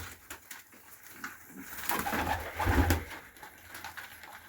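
Pigeons recovering from illness coo in soft repeated rumbles at close range, swelling louder midway, with light rustling and no talk.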